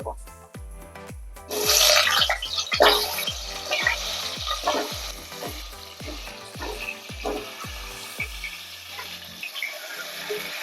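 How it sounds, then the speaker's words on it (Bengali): Salted cut potatoes hit hot mustard oil in a wok for a vegetarian aloo dum, a loud burst of sizzling that settles into steady frying, with a regular series of dull low knocks underneath. "কড়াইতে একটু নুন দেব কেটে রাখা আলুগুলো দিয়ে"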